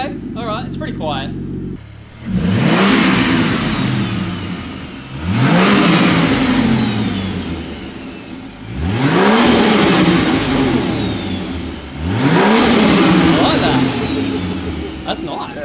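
Four loud, evenly spaced revs from a Ford FG ute engine running a stock exhaust and Venom catback, each one sharply climbing and then falling away, heard up close after a short stretch of idle.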